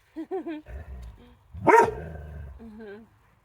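Dog barking outdoors nearby: a couple of quick sharp barks, then one louder yelping bark, with a person talking around them.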